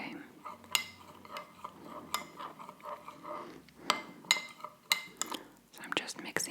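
A spoon stirs a coffee grounds scrub in a small dish, giving scattered light clinks and scrapes close by against a soft, quiet background with faint whispering.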